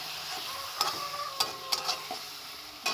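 Onions fry in a pan with ginger-garlic paste, chilli and turmeric powder, a soft steady sizzle under a few sharp scrapes and taps of a spoon stirring against the metal, close and fairly quiet.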